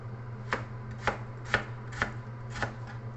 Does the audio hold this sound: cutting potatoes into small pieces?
yes